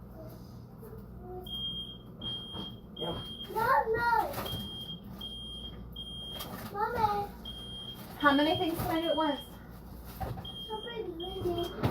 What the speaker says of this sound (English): Yeah, that's the fire alarm